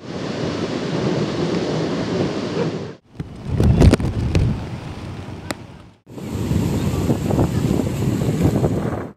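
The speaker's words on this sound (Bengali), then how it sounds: "সাগরের গর্জনটা অনেক ভালো।" Stormy sea waves roar onto a beach in rain, a loud continuous rumbling wash in surging bursts with brief dips between them and heavy crashing surges in the middle.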